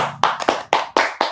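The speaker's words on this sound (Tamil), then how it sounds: "அதுக்கே ஒரு கைத்தட்டல" Clapping on an interview show, five or six crisp claps in a quick, slightly uneven rhythm, close and clear with no talk over them.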